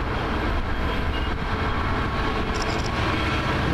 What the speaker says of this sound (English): Comes another coal train from